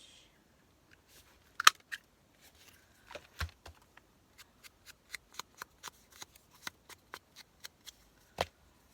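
A few sharp snips up close, then a steady run of evenly spaced crisp cuts, like scissors working through paper in a quiet room.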